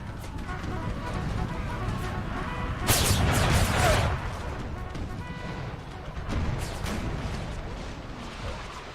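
Rumbling cannon fire on infantry and scattered booms in a noisy American Civil War video game battle, with a stronger burst of blasts partway through and a voice talking over it.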